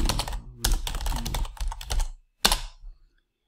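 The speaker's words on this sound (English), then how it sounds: "And then I can just start typing over here." Fingers typing on a computer keyboard, close, in rapid bursts of clicky keystrokes broken by short pauses, ending with a final flurry before silence.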